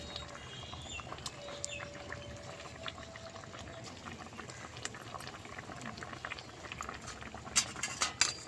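Fish curry with home-grown papaya simmering in a pot, a steady bubbling boil with small liquid pops and occasional light clinks of a utensil, close and moderately quiet throughout.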